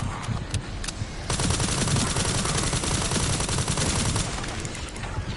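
Sustained automatic gunfire from the Resident Evil 9 Requiem video game rattles on continuously in a dense, loud stream with no pause.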